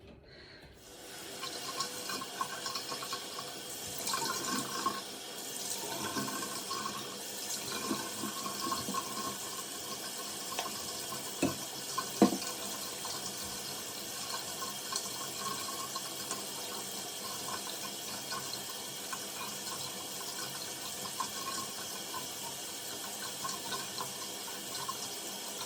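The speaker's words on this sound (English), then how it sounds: "So I'm going to show you how I wash my face and moisturize" A bathroom tap runs steadily for face washing, a continuous soft hiss of flowing water with faint splashes and small knocks, fairly quiet and with no talking.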